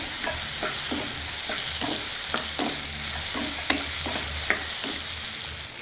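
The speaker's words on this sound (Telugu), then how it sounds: "ముందుగా కట్ చేసి పెట్టుకున్న బీరకాయ ముక్కల్ని అదే నూనెలో వేసి వేయించుకుందాం" Ridge gourd pieces frying in oil while being stirred for a ridge gourd and tomato chutney: a steady sizzle under repeated scraping strokes of a spatula in the pan, close and clear, with no talk.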